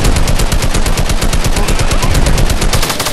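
Rapid, sustained submachine-gun fire from a tactical SMG in the Fortnite video game, a loud, unbroken stream of closely spaced shots running the whole time with no talking.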